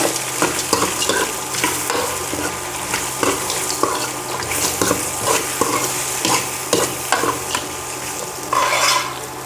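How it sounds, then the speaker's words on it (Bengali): Lentils and potatoes stirred in a pan, a spoon scraping in steady repeated strokes over a soft sizzle, close and fairly loud throughout, with no talking. "এখন নাড়া দিব।"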